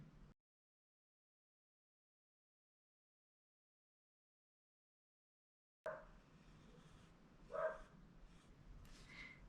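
A neighbor's dog barks outside at a distance in a few faint, scattered yaps over a soft background hiss, after a long stretch of near silence.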